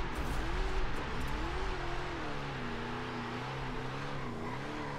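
A Ford Mustang tuned to 1500 hp holds launch-control revs around 4000 rpm in Forza Horizon 5, a loud, steady engine drone with the pitch wavering slightly up and down throughout.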